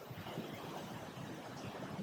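Strong wind blows on a crazy windy day in Tiburon, making a steady, loud, broadband roar that buffets the microphone for the whole stretch, with no voices.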